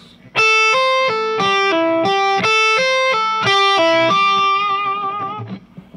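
A distorted electric guitar plays a fast pentatonic legato lick on the top two strings, a repeating run of notes stepping downward and ending on a sustained, vibrating note.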